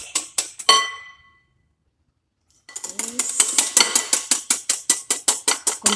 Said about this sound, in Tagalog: Continue beating our mayonnaise until thicken.